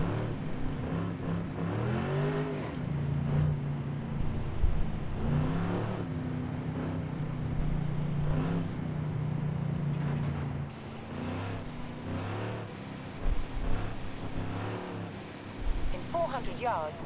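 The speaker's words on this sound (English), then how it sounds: "Hear that motor." A Chevy Impala lowrider's engine runs and revs, heard from inside the car as a steady low drone while people talk over it.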